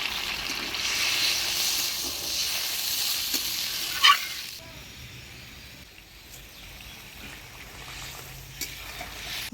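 Water poured onto sizzling fried spice masala in a village kitchen, the loud sizzle flaring with a brief hiss and then quieting to a softer simmer, close by with no talking.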